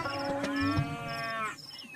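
A water buffalo lets out one long, drawn-out low moo. It is close and fairly loud, with a faint knock or scrape near the start.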